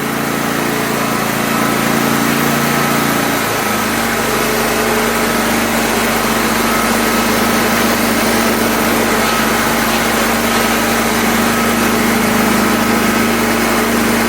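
A Champion 100520 generator engine runs on propane at a steady 2,400 rpm, its loud, constant drone holding unbroken throughout, with a low hum that deepens slightly after a brief shift early on.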